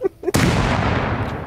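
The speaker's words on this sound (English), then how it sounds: "It could quite possibly be a bean can grenade." Two faint low thumps, then a sudden loud grenade explosion in the game Rust that rings out and slowly decays over the rest of the clip.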